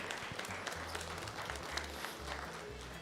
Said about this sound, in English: So please do give all these young handlers a big round of applause.